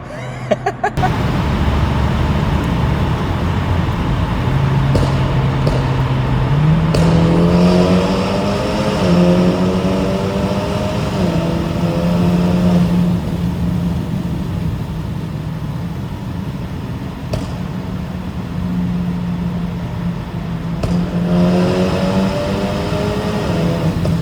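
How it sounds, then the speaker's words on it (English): A Stage 3 BMW G20 330e cruises with its exhaust valves open, giving a steady loud engine drone with gear-change pitch climbs and drops, heard from inside the car throughout. "we're driving now cruising speeds with the valves open"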